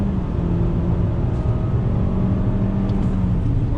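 2020 Nissan Altima AWD engine pulling under throttle, a steady droning engine note with road and wind noise heard from inside the cabin, no voices.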